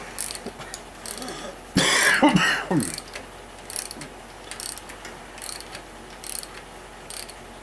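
A ratchet clicks as a nut is run down onto an engine's harmonic balancer during a valve train rebuild, with a loud burst of rapid ratcheting early on, then quieter intermittent clicks and mechanical noise.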